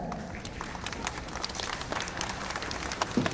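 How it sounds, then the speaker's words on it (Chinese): Steady applause from the audience at a baseball player fan meeting Q&A, a dense continuous patter of clapping held at an even level throughout, with no voices standing out. "热烈的掌声"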